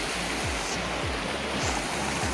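The swollen Tinau river in flood gives off a dense, continuous rushing roar with no voices. A few low thuds pulse beneath the torrent.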